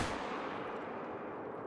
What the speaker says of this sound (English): See how much slower this rifle is in terms of firing?